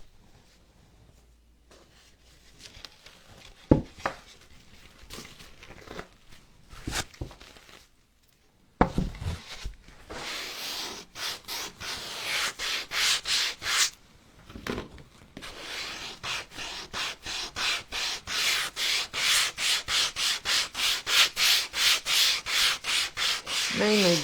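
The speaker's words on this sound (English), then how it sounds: "I was going to sand my frame back a little bit." Hand sanding along the edges of a rustic wooden snowman frame, with quiet scattered rubs at first, then steady rhythmic back-and-forth strokes that grow louder and faster.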